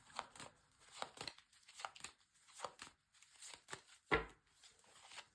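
Tarot cards riffle and slide in a series of quick, papery bursts, about half a dozen shuffles with a sharper slap near the end; no speech.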